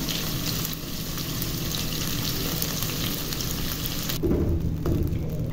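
Two medium sliced onions sizzle and fry in hot ghee for chicken matka biryani, a steady close crackling hiss that swells louder near the end as they are stirred.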